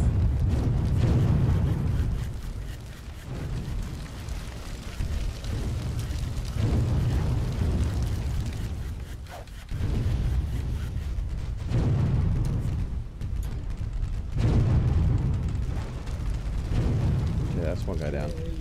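Bomb blasts from the naval strategy game Windward ring out as a run of deep, rumbling booms with low swells and brief lulls between them, under steady chatter from several players.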